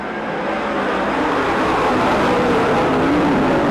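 A field of 410 sprint cars roars off at the green flag for a heat race at Merced Speedway, a loud, dense engine drone that builds steadily as the pack accelerates together.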